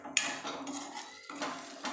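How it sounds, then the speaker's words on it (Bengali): Potato and cauliflower pieces tipped into a pan of cooked masala give a sharp clatter, then tumble and scrape against the metal in a short, close burst of knocks lasting about two seconds. "এখন আমি এখানে আলু আর ফুলকপিগুলো দিয়ে দেবো।"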